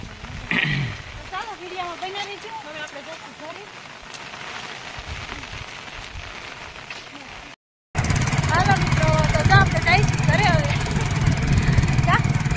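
Rain falls steadily on a farm, a broad continuous patter that grows louder partway through, while people talk over it nearby.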